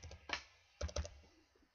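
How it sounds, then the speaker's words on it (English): Several quick, close keystrokes on a computer keyboard, tapped in two short bursts with a pause between, faint and with no talking. "why do I keep typing that in?"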